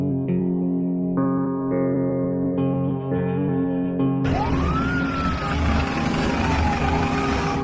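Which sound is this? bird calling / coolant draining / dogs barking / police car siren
police car siren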